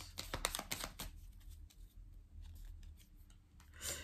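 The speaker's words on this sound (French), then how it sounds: "Allez, je vais recouvrir quelques cartes." Tarot cards being handled and laid out during a card reading, a cluster of quick crisp snaps and slides at the start, then softer scattered rustles of cards over a quiet background.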